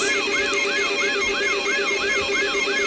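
Sirens wail in a rapid, regular rising-and-falling cycle, several warbles in a row, loud and continuous over a steady drone, with no talking.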